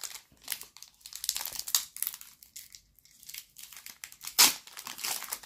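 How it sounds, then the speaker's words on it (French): A Pokémon Go card pack wrapper is torn open, with close, crinkly crumpling and tearing of foil in irregular bursts, a sharp rip near the end and no voices. "on va tout de suite ouvrir ceci"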